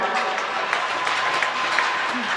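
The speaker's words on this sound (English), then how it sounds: "Let's give a round of applause for the first ever Little Falls Boys High School hockey team" Crowd applause for the first-ever Little Falls Boys High School Flyers varsity hockey team at a game against Dodge County, a steady, dense clapping that fills the space with a few sharper claps and cheers standing out.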